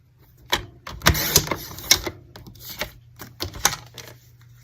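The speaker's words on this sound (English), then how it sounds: "So I'll take that, cut this down to 5 1/4 by 4." White card being cut to size for a lattice card, a series of sharp clicks and crisp cutting snaps at irregular intervals, close and alone.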